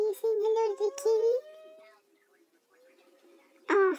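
A cat meows near a Labrador Retriever, with drawn-out, wavering vocal calls that fade, then a sharp louder cry at the end, while someone speaks softly.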